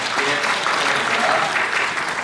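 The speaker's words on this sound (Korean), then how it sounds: "박수 한번 부탁드리겠습니다" Steady, dense applause from an audience at an international friendship association training event in a hotel convention hall, sustained at an even level throughout without pause.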